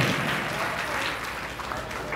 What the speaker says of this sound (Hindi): इसलिए ताली के साथ तारीफ करते हैं।